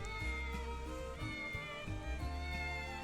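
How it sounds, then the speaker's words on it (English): A cat meowing in the video game Triangle Strategy, three drawn-out tonal meows in a row over a steady game background. "3 meows for good luck."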